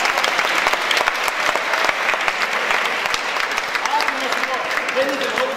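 Lively audience applause at a Greek stand-up comedy show, dense crackling clapping sustained throughout, with a few voices surfacing faintly toward the end.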